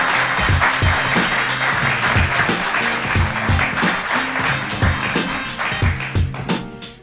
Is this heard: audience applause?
yes